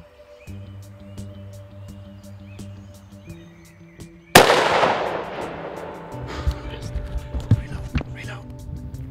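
A single sharp rifle shot fired at mountain goats during a hunt cracks out loud in the middle, then a long echoing rumble rolls and decays across the terrain, with faint voices and quiet handling noise before it.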